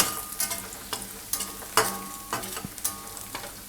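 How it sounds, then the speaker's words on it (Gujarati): Cashews fry in oil with garlic, giving a steady sizzle broken by repeated sharp scrapes and clanks of a spoon stirring in the pan. "હવે એમાં આપણે નાખી દઈશું આ કાજુ. થોડાક કાજુને એમાં શેકાવા દે."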